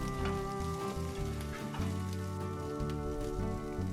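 Garlic, ginger and dry red chilies frying and being stirred in a pan, giving a steady, close crackling sizzle with faint scraping, alone without talk.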